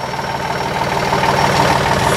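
A John Deere 2032R compact tractor engine idles steadily nearby, a loud, even low rumble with a constant throbbing pulse and no voices.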